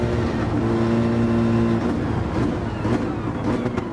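Racing car engine in Gran Turismo 7, a loud, sustained engine drone with steady harmonic tones that shift partway through as the revs change, with no pauses.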